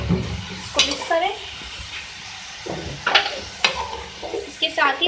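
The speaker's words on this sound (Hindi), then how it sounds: "इसको मिक्स करें।" Chopped ridge gourd and tomatoes are mixed in a hot pan for a green chilli sabzi. A spoon scrapes and clatters in uneven bursts over a low sizzle, with someone talking between the strokes.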